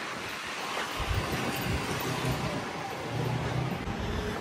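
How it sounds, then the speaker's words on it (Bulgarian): Strong outdoor wind buffets the microphone as someone walks near a hospital, a continuous close roar of rumbling gusts that holds throughout. "Мале как диха обаче вятър."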